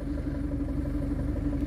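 A Mercedes W203 C-Class engine idles steadily, a continuous low rumble with a faint mechanical clatter, close and unbroken with no talk.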